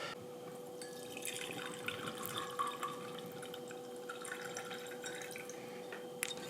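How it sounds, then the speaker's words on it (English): The water phase of a homemade scalp serum is poured into a glycerin mixture, giving a steady trickle with dripping and splashing that lasts throughout and ends in a small clink. "We can add the water side into the glycerin mix."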